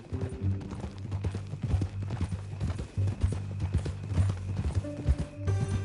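A horse's hooves clip-clop at a steady walking pace in Red Dead Redemption 2, close and clear, with a low rumble of ambience beneath the regular hoofbeats.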